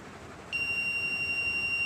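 Buzzer on an Android-controlled microcontroller circuit sounding one steady, high electronic tone that starts abruptly after a moment of low background hiss and holds without break.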